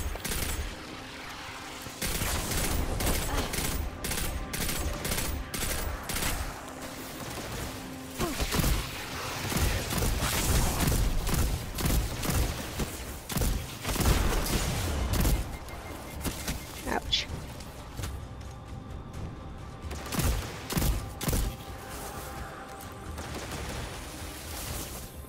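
Bursts of gunfire from the video game Destiny 2 while fighting Fallen enemies, rapid repeated shots and blasts layered over game effects, loud and continuous with short gaps, with a voice speaking at points.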